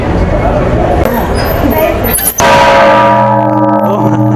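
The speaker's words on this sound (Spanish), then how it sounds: "La campana repicando nos tocó." A huge church bell in Amatitán, Jalisco, strikes once with a loud clang, its bright ringing overtones sustaining and slowly decaying, after a stretch of busy outdoor noise with voices.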